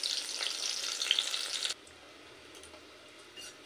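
Eggplant pieces frying in hot oil for a tamarind potato-eggplant sour curry, a steady bright sizzle for under two seconds that then drops abruptly to a quiet background.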